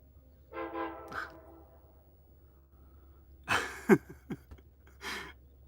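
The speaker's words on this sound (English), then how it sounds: "There goes the train." A train horn sounds in a sustained harmonic blast, followed a few seconds later by louder rumbling and clanking bursts as the train moves by.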